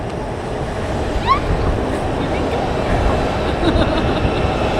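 A steady, dense rumble fills the inside of a train leaving Berlin, with broadband rolling noise, faint squeaks and light knocks, and no break in the drone.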